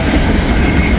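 Freight train on the B&O line carrying old railroad ties rolls past close by, a loud continuous rumble of wagons and wheels with rhythmic clatter on the rails.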